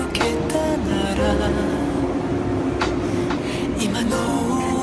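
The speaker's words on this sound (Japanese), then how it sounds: "この列車は15両で" A 15-car limited express train at a Japanese station rumbles steadily with rail clatter and mechanical noise, joined by a platform announcement and music, loud and close throughout.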